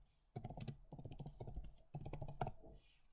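Computer keyboard typing in three quick bursts of rapid, close, moderately loud key clicks with short pauses between, entering a label into drawing software.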